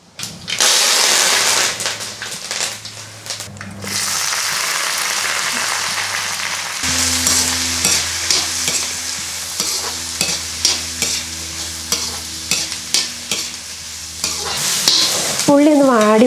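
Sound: mustard seeds, shallots and green chillies sautéing in pan

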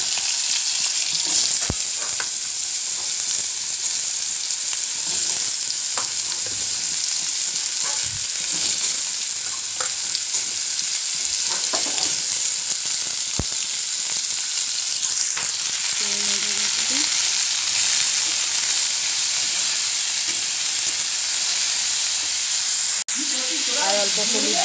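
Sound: potatoes frying in hot oil with black cumin

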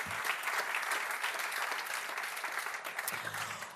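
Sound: audience applause

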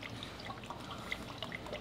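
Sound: motor oil pouring through funnel into car engine

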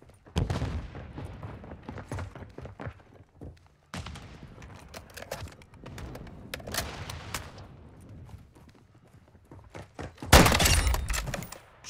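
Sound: grenade and gunfire in video game Call of Duty Modern Warfare II

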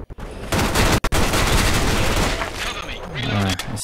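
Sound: gunfire in the video game Special Force 2

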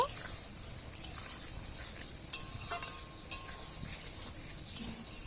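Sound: fish simmering in boiling spicy curry gravy

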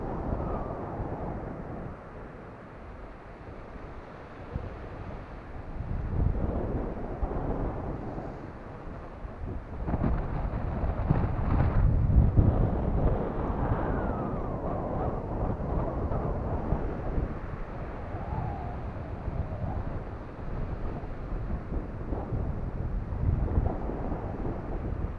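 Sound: wind on the beach in the rain

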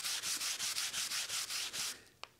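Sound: burnishing a wooden board along the grain

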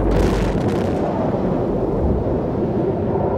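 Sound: nuclear bomb test explosion

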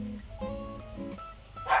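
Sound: dog barking in a garden

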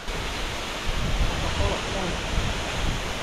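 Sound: Ilomska waterfall on Vlašić, Bosnia and Herzegovina

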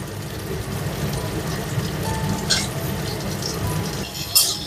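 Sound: onion and lentils frying lightly in a pan for dosa

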